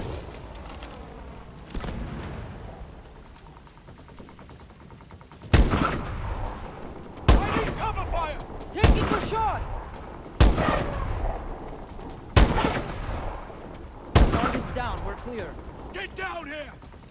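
Call of Duty Advanced Warfare battle gunfire with repeated loud, sharp shot bursts every second or two over a rumbling background, while voices shout in the middle of the fight.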